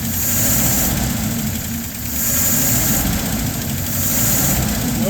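A LaSalle car engine idles steadily with the choke half closed, a loud continuous low rumble with a faint high whine, holding an even rhythm throughout.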